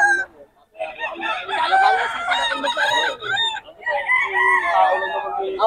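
Close, loud crowing from WPC banded gamefowl roosters at a Bocaue gamefowl market, with overlapping calls and clucks filling the clip and no clear speech over them.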